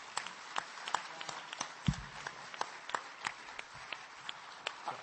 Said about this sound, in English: I want you all to join me in thanking the panel and applauding them